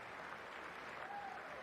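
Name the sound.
hand clapping imitating a reluctant clap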